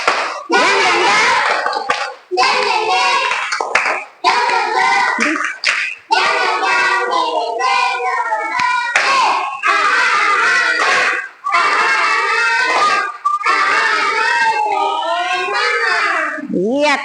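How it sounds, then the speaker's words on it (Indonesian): Schoolchildren in a classroom performing a rhythmic spirit clap, a cheer of patterned group hand claps mixed with chanting voices, loud and close, with brief pauses between phrases. "Tepuk semangat."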